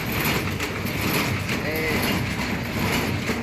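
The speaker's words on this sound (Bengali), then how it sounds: "এটা হলো পেপার কাপ মেশিন।" A paper cup making machine runs steadily, a dense continuous mechanical clatter with rhythmic ratcheting and gear noise throughout.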